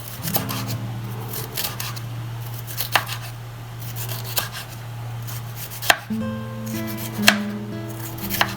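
A knife slices half of a large red bell pepper into strips on a board, giving crisp, close chopping taps at an uneven pace, with a few sharper cuts and no talking.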